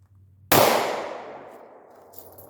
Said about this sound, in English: so same deal, one-handed shooting